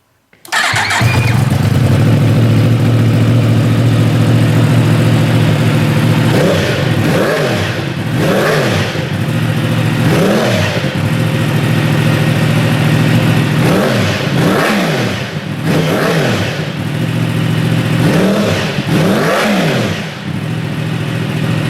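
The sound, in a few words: sport motorcycle engine revving, aftermarket exhaust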